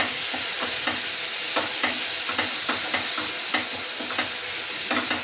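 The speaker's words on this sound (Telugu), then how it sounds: "ఇప్పుడు ఇందులోకి 1 టేబుల్ స్పూన్ కారం వేస్తున్నామండి. వేసి ఒకసారి కలిపేసి" Chili powder being stirred into cooked-down tomatoes in a pan under a loud, constant sizzle, with a spoon scraping in repeated strokes about twice a second, close up and with no voices.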